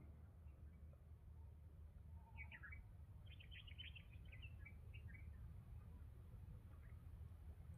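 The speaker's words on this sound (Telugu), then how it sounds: "ఇది చూడండి, పక్షులు ఎంత బాగా కిలకిల కొడుతున్నాయో." Birds chirp in a forest in short, faint bursts of high twittering over a steady low rumble of background noise, with no talking.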